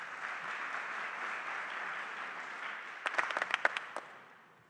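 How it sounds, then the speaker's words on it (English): Audience applause for a business owner called up at a small business meeting on proposed flavored tobacco regulation: a steady, moderate wash of clapping that breaks into a few louder separate claps near the end before fading out. "Round of applause, please."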